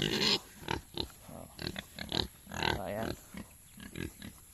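Pigs grunt and snort in short, irregular bursts close by, with one louder squeal at the start.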